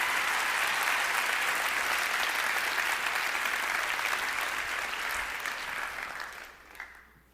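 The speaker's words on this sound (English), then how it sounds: "along with a big round of applause from all your friends" An audience at a TED talk gives a big, sustained round of applause, a thick roar of many hands that holds steady and then tapers off near the end.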